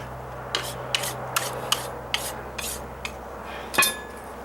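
A putty knife scrapes and spreads roof coating across deck stairs in a regular series of short rasping strokes, roughly one every half second, close up, ending with a brighter metallic scrape.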